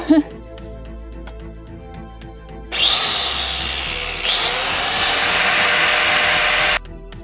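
A power grinder cuts through a car seat mount in two loud, sustained bursts of grinding after some quieter clicking and handling noise at the start, cutting off abruptly near the end.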